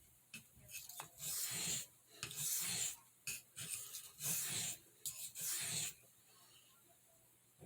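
A large Stockman pocketknife is drawn across a soft Arkansas oilstone in about six separate gritty rasping strokes, close and quiet, with short pauses between them and no talking.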